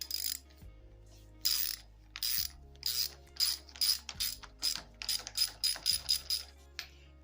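A ratchet wrench loosening 13 mm bolts on a 2004 Honda CRF250R dirt bike, giving rapid clicking bursts in short back-and-forth strokes, close and clear, with a few duller knocks between the strokes.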